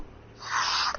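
A single short sneeze bursts out near the end of a quiet stretch, close and fairly loud, during a casual gaming chat.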